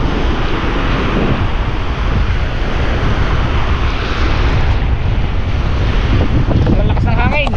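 Loud, strong typhoon wind (Typhoon Pablo) roars continuously against the microphone by moored boats, with surf and crashing waves churning underneath throughout.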